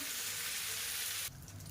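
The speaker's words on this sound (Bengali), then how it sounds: "এবার চিংড়ি মাছগুলো অল্প একটু ভাজা করে নেব" Shrimp fry lightly in hot oil with a loud, steady hiss that drops abruptly to a softer sizzle partway through.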